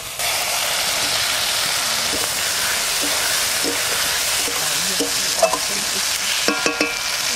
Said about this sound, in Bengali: মশলা কষানো হয়ে গেছে, এবার আলু দিয়ে দেবো।